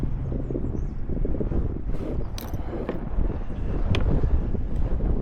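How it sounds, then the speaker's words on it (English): Wind of about 5 to 10 mph blows across a lake over a bass fishing boat, a dense, unbroken low buffeting roar close to the microphone with occasional faint clicks. "The wind's supposed to be 5 to 10 mile an hour today, and it's blowing us up current"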